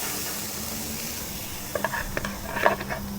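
Asparagus spears sizzle on an outdoor grill preheated on high, a steady close hiss broken by a few light clinks and taps as the spears are set on the grates.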